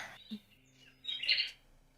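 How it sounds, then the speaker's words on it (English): A short electronic birdsong phone alarm plays, with bright chirps and a trill, faint and close, with no talking. "Oh, that's my alarm. I thought that was sound effects in the game."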